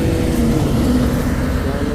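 A tour bus convoy rumbles past on a road, a loud, steady close engine and traffic drone with no talk.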